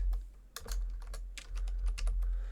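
Quick keystrokes on a computer keyboard while entering data into mapping software, several short clustered clicks in an irregular rhythm, close and fairly quiet, with no speech.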